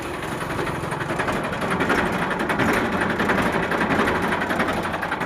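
Massey 241 DI tractor engine idling, a steady, close, mechanical chugging with a continuous rattling texture and no talk over it.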